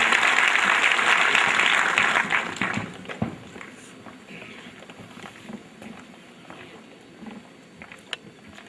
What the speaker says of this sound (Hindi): कृपया जोरदार तालियां बजाइए